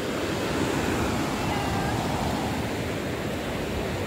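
Ocean surf rolls onto the beach at Digha at night, a continuous broad wash of breaking waves at steady loudness, with no voices on top.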